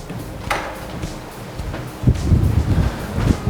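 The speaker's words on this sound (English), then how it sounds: "It's a little windy today" Gusty wind buffets an outdoor balcony of a large house, rumbling low and unsteady in irregular bursts with a stronger surge toward the end.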